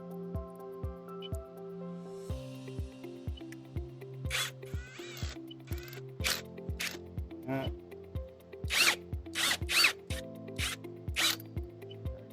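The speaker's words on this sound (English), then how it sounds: "I had to turn the drill up on that one" A power drill drives a screw while replacing APC UPS RBC43 batteries, whirring with a steady motor hum and rapid ratcheting clicks, pausing briefly and then driving on, with short louder bursts as it bites.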